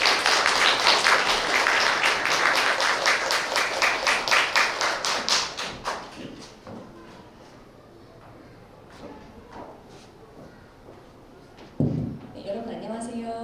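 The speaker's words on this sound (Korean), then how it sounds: "큰 박수와 함께 무대로 모셔보도록 하겠습니다" An audience at a science lecture event applauds to welcome a professor to the stage, loud dense clapping that thins and fades after several seconds into scattered claps, followed by a thump and a voice starting to speak.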